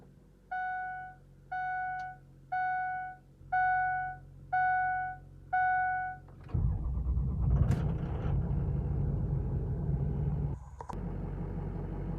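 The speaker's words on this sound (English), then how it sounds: "I'm gonna get this thing fired up, take it for one more quick little drive here" A Ford F250 with a 6.0 diesel engine: six evenly spaced warning chimes sound, then the engine cranks and catches into a loud, steady diesel rumble that holds, with a brief dip near the end.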